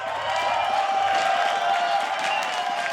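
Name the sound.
crowd cheering and applauding at LCS esports event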